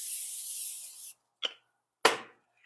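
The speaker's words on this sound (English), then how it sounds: "We spray it with nonstick." Nonstick cooking spray hissing onto a pizza sheet: one steady spray of about a second, then two short bursts, close and loud, with no talk.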